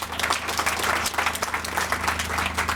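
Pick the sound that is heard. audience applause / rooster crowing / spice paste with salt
audience applause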